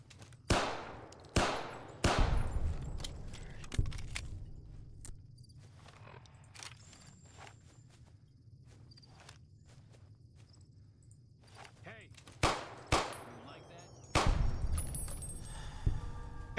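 Gunfire in Fallout New Vegas, a headshot in the modded game: sharp shots at the start, a few more sporadic cracks later, over low ambient hum and no talk.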